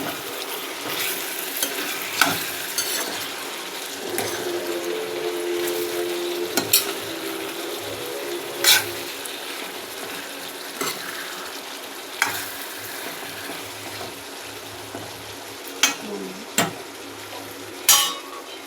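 Food frying in a pan is stirred with a utensil, steady sizzling broken by sharp scraping clacks and knocks against the pan at irregular intervals, close and moderately quiet.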